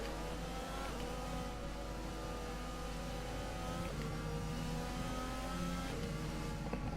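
F1 cars on a formation lap in F1 2020, a continuous close engine roar with rising and falling revs and brief gear-shift dips, loud and unbroken, with no voices.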